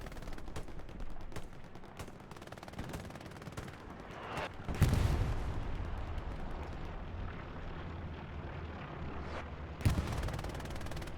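Machine gun fire in the World War II shooter Hell Let Loose on Utah Beach, with sharp bursts and single cracks, some near and some distant, and a heavy blast partway through.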